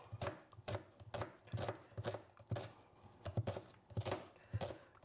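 A knife chops vegetables for a homemade Indian chicken curry on a cutting board, giving a steady run of crisp, evenly spaced thuds about twice a second, close and fairly quiet with no talking.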